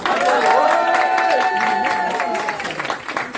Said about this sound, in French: On applaudit Damien, s'il vous plaît